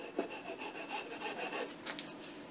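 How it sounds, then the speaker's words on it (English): A hand file rasping along a wooden katana blade, quiet repeated scraping strokes in an even back-and-forth rhythm, heard close up with no talking. "shape it with a file from this line to this line, just taking off enough"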